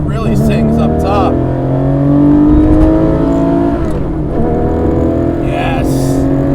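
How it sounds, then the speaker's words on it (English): A modified Porsche 964 Carrera 4 engine revs hard to high rpm, its rising tone climbing steadily up close from inside the car, with people talking over it. "Oh, it really sings up top."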